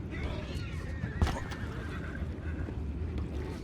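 Horses neigh in Red Dead Redemption 2, with one whinny rising and falling over a dense rumble of game sound and faint background voices.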